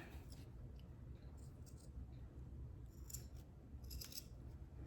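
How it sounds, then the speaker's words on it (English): Pinking shears cut through fabric in a few quiet, crisp snips over a low background hum. The snips are close but faint, and there is no clear speech. "I'm gonna recut that because my pinking shear is not gonna want to go over that"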